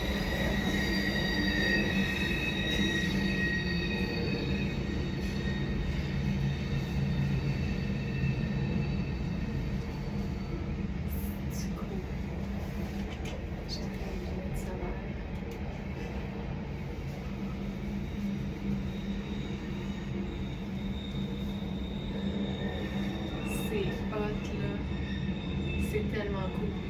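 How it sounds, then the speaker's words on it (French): A very loud train passing close by, a sustained roar of rolling wheels with metallic squealing and screeching tones layered over it, steady and unbroken throughout. "c'était le train le plus bruyant de toute l'histoire des trains"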